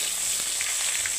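Fish heads drop into hot mustard oil and fry with a steady, close hiss and sizzle, a continuous bright crackle with no talking.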